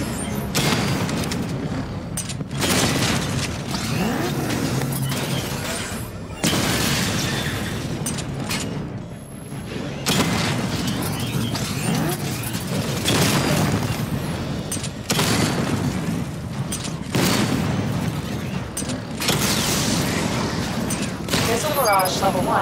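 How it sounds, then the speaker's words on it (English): Batmobile weapons fire in Batman: Arkham Knight during a target-destruction diagnostic, loud dense bursts of rapid shots and booms in long sustained volleys separated by brief lulls. "Destroy targets to charge up weapon energy and activate missile barrage."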